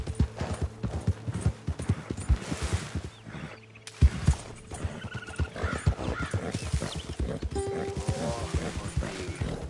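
A horse in the video game Red Dead Redemption II clip-clops along at a steady walking pace, hoofbeats close and clear over outdoor ambience, with faint crow calls and a brief pause partway through.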